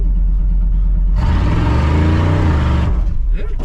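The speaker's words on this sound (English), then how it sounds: "yeah, both back tires spinning." A 1979 Chevrolet Squarebody with a 350 cubic-inch V8 revs hard with both rear tires spinning. A steady low rumble jumps into a loud, broad roar that holds for nearly two seconds before dropping back to the idle rumble.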